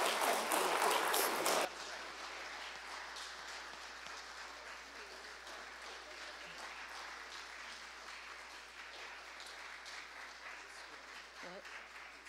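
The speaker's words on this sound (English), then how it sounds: "Let's give them a round of applause." A church congregation applauds during a live Sunday worship service: a loud burst of clapping for under two seconds, then quieter scattered claps and room murmur trailing on with faint movement.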